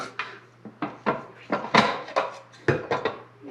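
A hand mixer's whisk attachment being pulled free while making banana bread, giving a quick series of close, sharp plastic-and-metal clicks and clunks in an irregular rhythm, with no talking.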